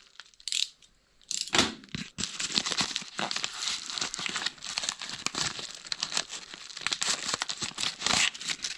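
A knife cuts open a package holding a worm gear part for a 12 x 37 gap bed lathe, producing continuous crinkling, tearing and crunching of packaging, close and fairly loud, with a brief pause near the start.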